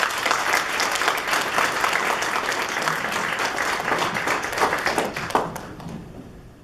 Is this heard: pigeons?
no